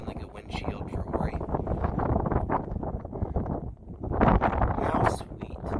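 Strong wind buffets and rumbles across the microphone outdoors on a windy day, in gusts that rise and fall, with voices faintly mixed in.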